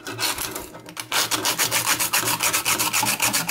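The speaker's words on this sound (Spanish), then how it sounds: "cogeríamos un papel de lija" Rhythmic rasping strokes of sandpaper smoothing the sharp metal edges of a homemade camping stove, steady back-and-forth scraping close by, with a brief pause before the strokes pick up again.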